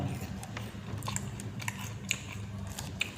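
Someone chews crunchy food close to the mic, steady crisp crunches and bites repeating over a low background hum, with a few sharper cracks standing out.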